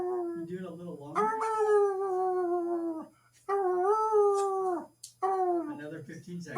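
An old dog howls in long, wavering drawn-out tones, three sustained howls separated by short breaks, loud and close, with a little speech around them.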